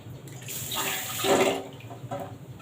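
Strained tamarind water is poured into a pot of sambar, making a soft, close trickling splash that swells briefly in the middle and then tapers off.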